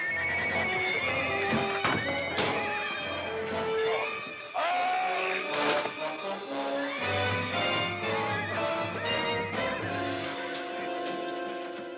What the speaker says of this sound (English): he gave Mannequin a hard slap on the rump, and the horse is rather upset.